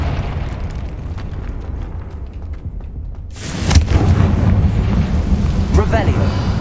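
Explosion from a blasting spell in a fantasy video game with dragons, a sudden loud rumbling boom that swells into a sustained roar over a continuous low background.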